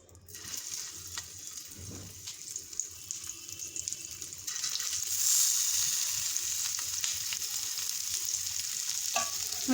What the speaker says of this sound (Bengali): আমি এখন উচ্ছেগুলো এক এক করে দিয়ে দেব।